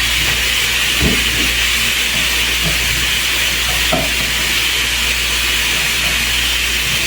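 Onion frying in a pan for a farofa, a loud constant hiss of sizzling oil with a few soft knocks of stirring, steady and close.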